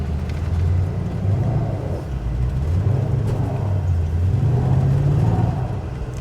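A vehicle in two-wheel drive grinds up a steep, rutted off-road slope, its engine droning low and steady with slight surges in revs, close and continuous with no talking.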